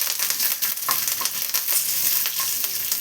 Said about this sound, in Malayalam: ഇതിലോട്ട് അല്പം വേപ്പിലയും 2 ഉണക്കമുളക് പൊട്ടിച്ച് വെച്ചതും കൂടെ ചേർത്ത് കൊടുക്കാം